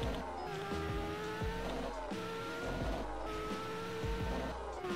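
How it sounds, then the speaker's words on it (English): A motorcycle engine races in Roblox Drag Project Future, a steady revving drone with repeated shifts in pitch as it accelerates, loud and continuous over a low rhythmic backing, with no talk. "Come on, motorcycle, come on."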